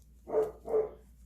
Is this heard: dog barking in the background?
yes